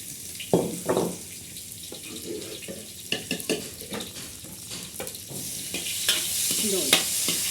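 Garlic and green chilli masala frying in hot desi ghee for a bitter gourd dish, crackling and sizzling close by, with irregular stirring scrapes and a brief splashing of water.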